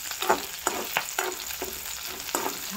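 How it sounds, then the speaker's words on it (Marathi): Curry leaves hit hot oil for fried green chillies, giving a close sizzle punctuated by several sharp stirring scrapes at irregular intervals, with no talking. "यानंतर थोडासा कढीपत्ता टाकायचा आहे आपल्याला"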